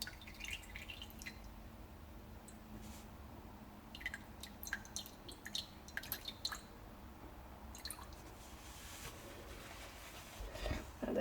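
Melted candle wax is poured back from a container while making scented test candles, giving faint, scattered drips and small liquid trickles in a quiet room, with a louder splash near the end.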